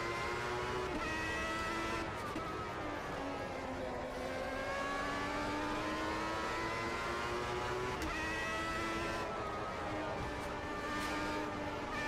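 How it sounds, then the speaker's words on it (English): Simulated V12 Formula 1 engine in the AMS2 racing game, a steady high-pitched whine rising and falling through gear changes, fairly quiet and continuous. "Sounds like a V12 engine."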